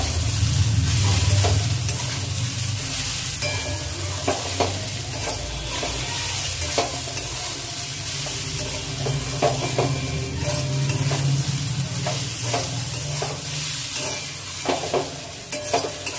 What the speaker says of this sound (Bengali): লবণটা একটু ভালো করে মিশিয়ে নেব।